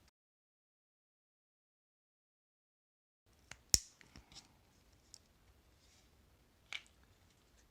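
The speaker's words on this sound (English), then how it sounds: "use a pair of snips to snip all of these plugs coming out of the back of this plug" Hand snips cutting the plugs off a circuit board, heard after three seconds of silence as a few sharp, isolated metallic snaps and clicks, close and clear, spaced irregularly with quiet handling noise between them.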